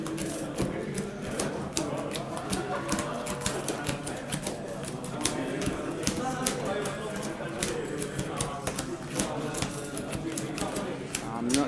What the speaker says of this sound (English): we have our two players shuffling